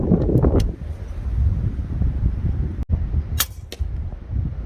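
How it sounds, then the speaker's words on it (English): Gusty wind buffets a microphone outdoors at an air-rifle range as a storm darkens, a steady loud low roar that swells and eases, broken by a brief dropout and a few sharp high bursts. "And that wind is really gusting."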